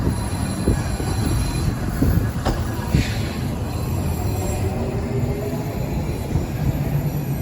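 A Toronto TTC subway train rumbles steadily with faint squeals and clanks as it pulls away from Kennedy station, no voices.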